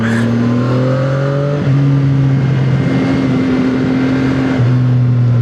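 A motorcycle with a stock muffler revs its engine, a loud, steady droning tone with pitch shifts as the throttle changes, close and continuous with no talk.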